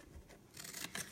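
Scissors snip into a small paper box lid with quiet, close cuts: a soft rub, then two brighter crisp snips near the end, all faint and with no talking.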